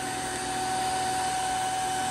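A Greenote GSC50 cordless vacuum cleaner runs continuously on its first, lowest power mode, giving a steady, close whirring hum with a constant whine and no pauses.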